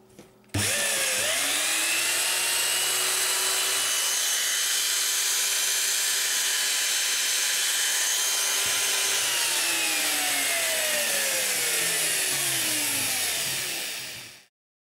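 A power tool whines at high speed, starting abruptly, running steadily with a slowly falling pitch, then winding down to a stop.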